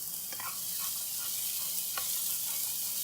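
Cooked jasmine rice fries in olive oil in a pan with a steady close sizzle, while a spoon stirs it and scrapes the pan with a few soft clicks.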